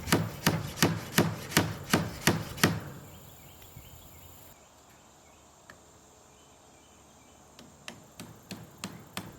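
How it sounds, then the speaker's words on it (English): A hammer drives number 6 galvanized nails into wood for a chicken-wire hoop coop, first as a fast run of sharp, evenly spaced blows, then a quiet pause, then a second run of strikes that gets louder. "I'm nailing this on with a number 6 galvanized nail"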